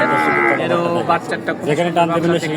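A Holstein Friesian heifer about ten months old lows at a busy cattle market, with a short, strongly voiced moo rising over the crowd. People talk throughout, and other livestock can be heard close by.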